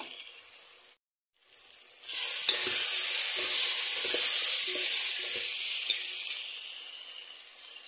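Mint and coriander leaves sizzle loudly in hot oil in a pan while a kushka is cooked, a steady bright crackle after a brief silent gap, with a few soft stirring knocks.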